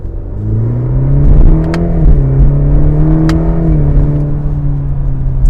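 A 2021 Cadillac CT4 Premium Luxury engine revs in a steady climbing drone with rising harmonics and small steps as gears shift, loud and close, with no talking.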